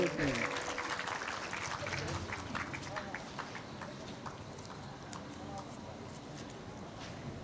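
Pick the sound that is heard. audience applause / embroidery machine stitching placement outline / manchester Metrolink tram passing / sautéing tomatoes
audience applause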